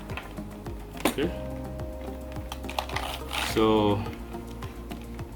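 Keys on a Logitech K120 keyboard are pressed in a run of quick, close plastic clicks and taps, with a few louder clatters, while someone talks over them.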